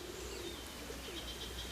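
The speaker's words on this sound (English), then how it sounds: "Look at these birds." Pigeons or doves coo softly in the distance outdoors, a few faint low calls over quiet background hiss and wind.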